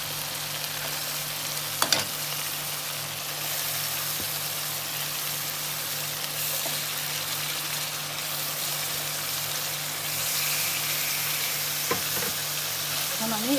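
Fish sizzles and fries steadily in a hot pan for a Bengali-style fish curry, a continuous close hiss with occasional stirring clicks and brief taps of a utensil.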